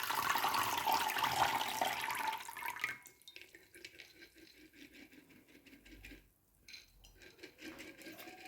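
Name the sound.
pouring sprouting water from jar into container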